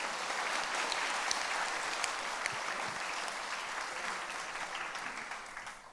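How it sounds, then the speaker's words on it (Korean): A church congregation applauds to welcome a pastor during an intergenerational Sunday service, a dense, steady round of clapping that fills the room and holds evenly before tapering off at the end. "박수로 환영하겠습니다."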